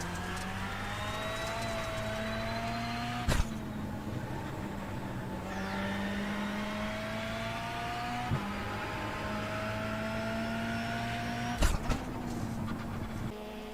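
Rally car engine in iRacing, driven through drift sections on dirt, a steady droning hum with slowly rising pitch that falls back at gear changes, marked by a couple of sharp clicks.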